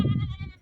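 A goat gives a single loud, close bleat that wavers for under a second before cutting off.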